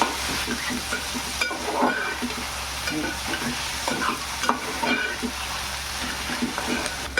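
Onions cooking in a pan for a wild khurasani greens dish sizzle steadily, broken by regular scraping stirs of a spatula, with a low hum underneath and no talking.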